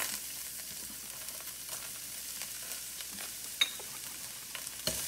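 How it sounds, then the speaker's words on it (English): Garlic sizzles steadily in a hot pan while a black pepper beef stir fry is being made, a soft continuous frying hiss with occasional small pops and stirring clinks, heard alone. "Now we add the garlic."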